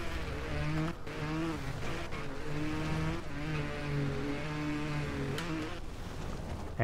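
A motorbike engine in the Trials Evolution game on The Forge track, throttle held steady with a continuous droning whine that shifts pitch slightly as the rider eases on and off, loud and constant with no talking.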